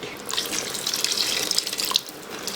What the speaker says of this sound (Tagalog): Maglalagay lang tayo ng tubig.